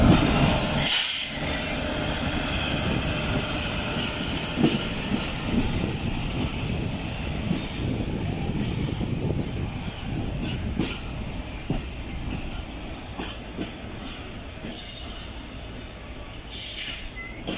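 A Pakistan Railways train between Karachi and Hyderabad rumbles steadily along the tracks in extreme heat with rhythmic clacking and occasional metallic squeals, close by and continuous throughout.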